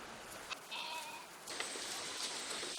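Goats on a hillside goat farm of about a thousand animals give a brief, faint bleat against a hissy outdoor background.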